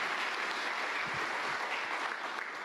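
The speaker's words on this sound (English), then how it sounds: "Give them a round of applause" Staff at an all-employee company meeting give a round of applause, a soft, distant, continuous patter of many hands, steady and faint throughout.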